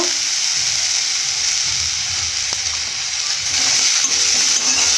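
Soybean and potato fry in a pan with a loud, steady hiss and crackle, the sizzle swelling slightly near the end, with no talking over it.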